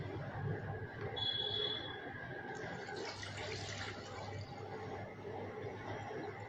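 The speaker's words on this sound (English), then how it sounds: "While pouring the water" Steady stream of water being poured into a container, filling it continuously at close range, with a faint high whistle partway through.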